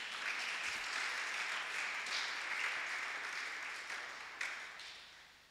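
A church congregation applauding, with sustained, fairly distant clapping from many hands in a reverberant hall that holds steady and then begins to fade toward the end.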